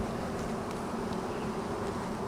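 Honey bees buzz at an opened hive during a swarm and split inspection, a dense, steady, close droning that fills the whole moment without any talk.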